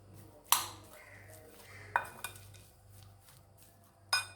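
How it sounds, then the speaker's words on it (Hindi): Spoon clinking against a bowl while samosa patty filling is mixed with turmeric and salt: three sharp metallic knocks spaced over a few seconds, with quieter scraping between them against a low steady hum. "इसके बाद हम इन सारी चीज़ों को अच्छी तरह से हम मिक्स कर लेंगे।"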